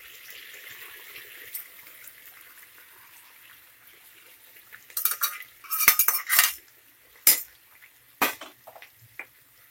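A spoon stirring cooked vegetables and softened tomatoes in a pan, starting with a quiet background sizzle before sharp metallic clanks and scrapes arrive in a cluster, followed by a few isolated knocks.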